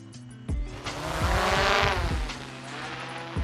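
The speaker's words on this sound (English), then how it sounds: "We're gonna go ahead and take off." DJI Mavic drone lifting off from a hand launch in wind, its rotor whine rising from idle to a loud, steady, high buzz with gusts of wind noise buffeting the microphone.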